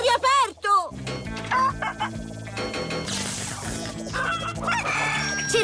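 Two cartoon chickens in a PAW Patrol episode cluck and squawk loudly, with a brief crowing rise, over busy background music and character voices.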